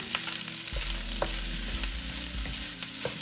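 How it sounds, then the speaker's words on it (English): Chicken wings or rice deep frying a second time in hot grease, a dense steady sizzle with low bubbling and occasional pops, close and continuous throughout. "when you fry it a second time, that's supposed to give you that crispiness"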